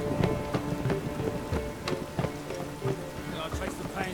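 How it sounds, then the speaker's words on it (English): Rain falls steadily in The Witcher 3: Wild Hunt, a constant patter with scattered heavier splashes and thumps, fairly loud throughout. "All this rain?"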